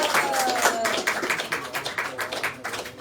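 Audience clapping at a morning program in Austin, Texas, a steady patter of hands that carries on for a few seconds, with some speech faintly mixed in.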